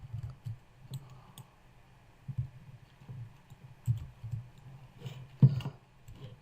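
Sharp, separate mouse clicks come up close and quiet, spaced irregularly with short gaps between them, while someone clicks and drags in an image editor's gradient tool.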